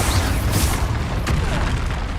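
An Expulso spell blast in the video game Hogwarts Legacy, a dense booming explosion with crackling burst layers, loud and continuous throughout, with no voices.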